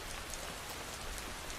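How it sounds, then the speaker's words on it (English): Gentle rain falling steadily on surfaces, a soft, even, continuous patter with no gaps, quiet and unchanging throughout. "Listen to the sound of the rain gently falling in the background."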